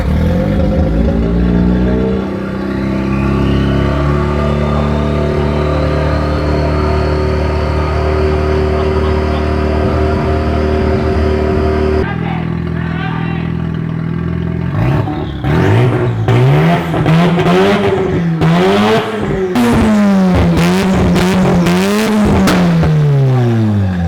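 A thirty-year-old Mazda RX-7 with an open downpipe revs hard and close: a loud, steady drone first, then repeated blips that rise and fall sharply in pitch, with no voices over it.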